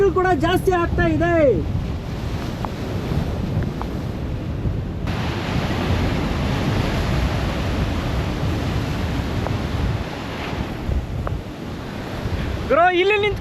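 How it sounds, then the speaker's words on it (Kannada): Ocean waves crash and roar steadily at Malpe beach under strong wind, with heavy wind buffeting the microphone throughout and brief voices at the start and end. "ಗಾಳಿ ಜಾಸ್ತಿ ಆದಷ್ಟು ಅಲೆಗಳು ಕೂಡ ಜಾಸ್ತಿ ಆಗ್ತಾ ಇದೆ."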